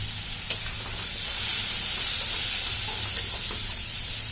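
Chilli and coriander powders frying in a pan for a Bengali pabda fish curry, with a steady close sizzle and soft scraping stirs throughout, one sharp clink near the start.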